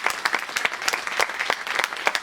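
An audience at a live stage show applauds steadily, a dense patter of many hands clapping at a moderate distance, continuous for a couple of seconds.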